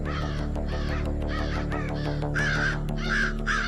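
Crows caw repeatedly in a dense forest, a series of loud, harsh calls in a steady rhythm over a constant low rumble of background noise, with no talking.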